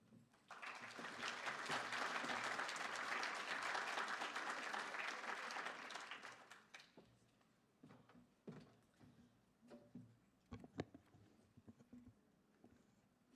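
Audience applause at a brain injury awareness event, a loud sustained burst of clapping for about six seconds that fades into scattered claps, shuffling and knocks.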